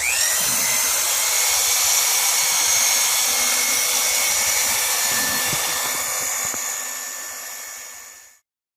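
A large power drill's loud, steady high-pitched motor whine runs continuously for several seconds during RV roof replacement, then winds down and cuts off abruptly at the end.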